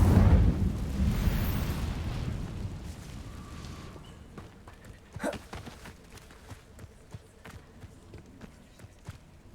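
Incendio fire spell cast in a video game: a loud roaring whoosh that fades over about four seconds into scattered crackles and sharp thuds.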